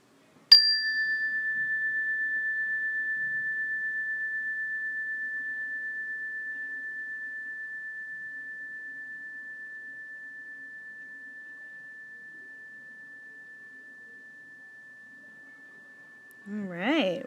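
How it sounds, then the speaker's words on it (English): A mindfulness bell strikes once and rings as a clear, pure tone that fades slowly for about sixteen seconds before a voice begins speaking. "listen just like you did before to the entire sound and raise your hand when the sound is gone"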